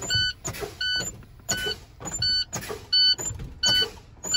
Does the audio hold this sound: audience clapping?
no